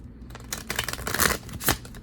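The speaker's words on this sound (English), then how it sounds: "Just giving a great big shuffle for these cards that we'll be using." Tarot cards being shuffled close by in quick riffling bursts, papery flutters and slaps rising and falling over two seconds, with a sharper flurry near the end.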